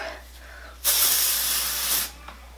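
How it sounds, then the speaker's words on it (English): A can of Eva NYC Surf's Up texturizing hair spray releases one steady, close hissing burst of a little over a second, starting and stopping abruptly against a quiet room. "I'm gonna use the Surf's Up texturizing spray from Eva NYC"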